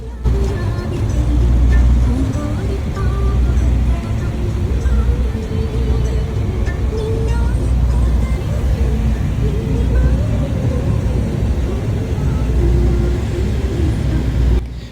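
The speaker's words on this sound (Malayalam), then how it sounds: "പിന്നെ വണ്ടിയിലായി യാത്ര. വണ്ടി കയറിയപ്പോഴത്തേക്കിനും പിന്നെ നല്ല മഴയായി." Inside a car driving through heavy rain in Dubai, a steady low road rumble and engine drone blend with a dense wash of rain on the vehicle, continuous and even throughout.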